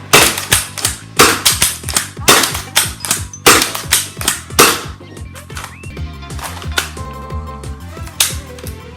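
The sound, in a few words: Gecko spring-powered foam dart blaster firing Dart Zone Max darts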